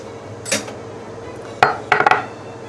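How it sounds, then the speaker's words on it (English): Apricot honey mustard glaze being stirred, a few sharp metal clinks of a utensil against the pot: one soft scrape, then a single knock and a quick cluster of four taps, close in an otherwise quiet kitchen. "And we're going to stir that in."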